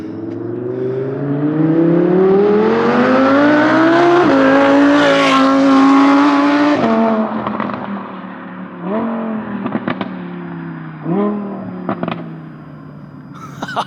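An Audi R8 V10 engine howls through rising gears, loud and close, then drops to sharp throttle blips and crackling pops as it slows.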